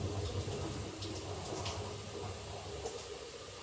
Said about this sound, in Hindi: और दाल, दोनों का पानी एक साथ ही फेंक देते हैं